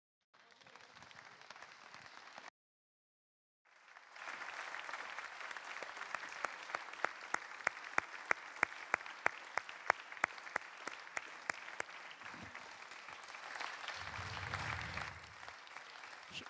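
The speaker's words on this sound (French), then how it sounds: "Ça mérite encore des applaudissements." Sustained audience applause at a conference on social housing, with many hands clapping steadily for about twelve seconds after a brief pause, a few sharper claps standing out, then fading into room noise.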